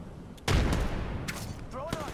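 A loud shot in a Call of Duty match bursts out and is followed by a sustained rumble of continued gunfire, with a few sharper reports and a short voice-like sound underneath.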